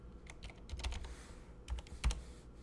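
Quick, quiet clicks of typing on a computer keyboard, in short irregular clusters of keystrokes with small pauses, close and soft.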